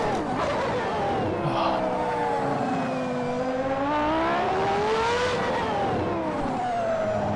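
A historic Ferrari Formula 1 car's engine in Assetto Corsa, racing around Monaco, a loud, continuous high-pitched wail that rises and falls with gear changes and revs, close and steady throughout.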